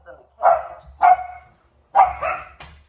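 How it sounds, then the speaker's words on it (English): A dog barks in a few separate bursts, close by, with short pauses between them and a final quick yip. "if my dogs start barking, which they sometimes do"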